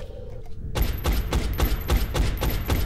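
Soldiers shooting at aliens in XCOM: Enemy Unknown: a sudden burst of loud, sharp gunfire opens after near-silence, followed by a steady rhythmic string of repeated shots, close and dominant.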